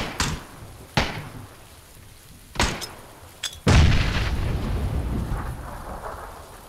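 A deep, booming explosion in the video game PUBG on the Sanhok map erupts after several sharp bangs, followed by a sustained rumbling roar; loud and close, with no talking.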